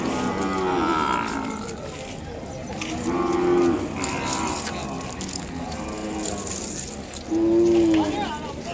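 Ongole calves and cattle at the bustling Kodad market moo several times, with three distinct drawn-out calls spaced apart, while people talk nearby throughout.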